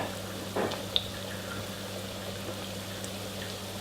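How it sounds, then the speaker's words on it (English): Scotch eggs deep-fry in really hot oil in a pan, a steady, faint, close hiss and sizzle with a single small pop early on. "You want to get a nice crusty outside to the eggs, so really hot oil, and fry them."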